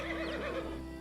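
A horse neighs in the video game Pathfinder: Kingmaker, a loud, close, wavering whinny lasting about a second over steady background game ambience.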